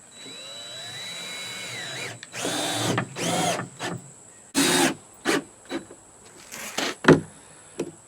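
A power drill drives screws into scrap wood corner braces for a homestead solar dryer, in several short, loud bursts of whirring separated by pauses, close up with little else around.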